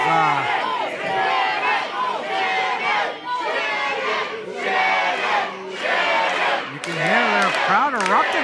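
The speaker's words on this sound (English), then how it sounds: "Crowd erupting right now." A wrestling crowd at a Chaotic Wrestling event erupts in loud, sustained cheering and shouting, with waves of voices swelling and dipping across the whole stretch and a few higher yells cutting through.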